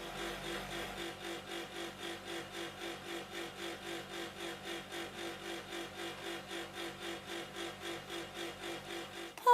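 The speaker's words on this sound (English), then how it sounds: "But if you're wondering what that noise is in the background, it's the refrigerator." A household refrigerator runs steadily in the background with a continuous hum and a regular, pulsing rhythmic texture throughout, with no talking.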